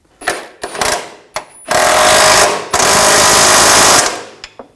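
A loud pneumatic impact wrench runs down a driveshaft coupler nut on a 2007-2013 BMW X5, first in short clattering bursts and then in two long sustained hammering runs, close up and without talk.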